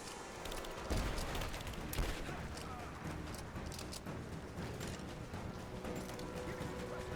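Heavy, continuous gunfire in the video game Rise of the Tomb Raider, a dense clatter of overlapping shots filling the whole stretch at moderate level, with soldiers shouting underneath.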